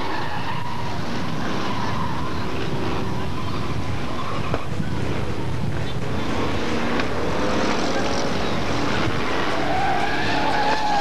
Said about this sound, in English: Tony Locke going awry on the city bend.